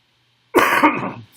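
A person with a cold gives a single short, sharp cough close to the microphone during a lecture.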